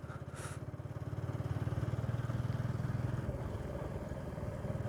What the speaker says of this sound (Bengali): ভাই এটা আমার সুপার বাইক নয় যে টানেলে র্যাপ করবো আর সাউন্ডটা সেরা আসবে।